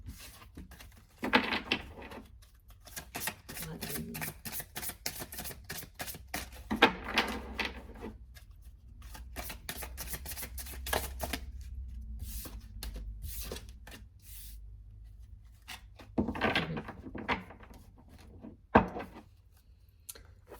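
Tarot cards riffled and shuffled by hand in a quiet room, a dense crackling flutter in several bursts with softer handling and card-drawing sounds between them.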